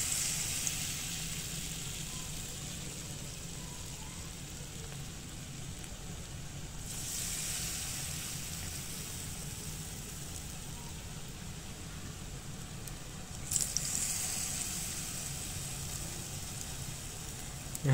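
Bread fries dipped by hand into hot cooking oil in a frying pan, giving a steady, fairly quiet sizzle with a low hum beneath and a couple of brief louder hissing bursts.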